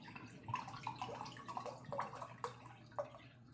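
Wine poured into a glass for a 9-ounce restaurant serving, a soft liquid trickle with faint splashing and drips, quiet and close, with no voices.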